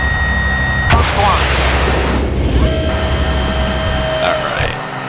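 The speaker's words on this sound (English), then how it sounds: "Missile launch." Missile launches in the flight-combat game Fighters Anthology: sharp whooshing bursts with a booming rush over a constant cockpit engine drone, followed by a fading whistle.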